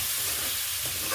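Ingredients for a mutton curry fry in a pan, making a steady, close, continuous sizzle with a brief stir near the end and no talk.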